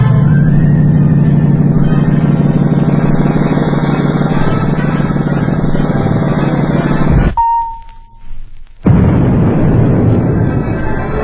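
Sci-fi laser devices overload and blast in a loud, dense buzzing roar that cuts out abruptly, leaving a brief thin tone and rumble, then the harsh blast surges back.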